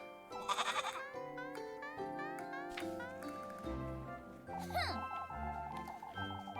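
Bleating from a goat named Rozenmarine in a video game, a few wavering calls mixed with musical tones and voices speaking around them.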